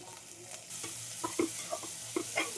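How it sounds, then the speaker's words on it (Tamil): Onions for a beef gravy sizzle steadily in a pan while a spoon stirs and scrapes now and then, close and fairly quiet. "வெங்காயம் நல்லா வதங்கணும்."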